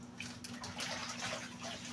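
Clothes being hand washed in cold water, close-up sloshing and splashing with irregular wet swishes and drips over a faint steady hum.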